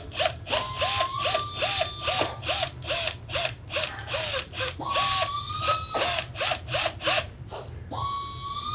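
A string winder cranks a bass string onto a tuning post on a Sadowsky bass with a quick-release bridge, giving repeated ratcheting, rising squeaky whirrs in quick bursts, close and loud, with no talk.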